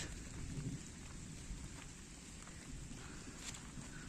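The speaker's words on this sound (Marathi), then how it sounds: "पाऊस गळतोयच" Steady rain pours down in a dense, even hiss, with faint patters on surfaces and a low background rumble throughout.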